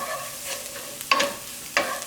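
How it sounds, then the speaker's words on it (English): Sautéed mushrooms, onions, garlic, parsley and chives are stirred in a pan, a soft sizzle under two sharp scraping strokes of a utensil against the pan. "So add everything in and just give it a stir."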